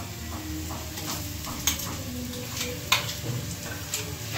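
Food fries softly in a pan while being stirred, with a faint steady sizzle and a few sharp clinks of a spoon against the pan.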